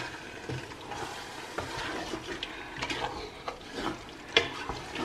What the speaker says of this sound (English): I'm gonna stir again.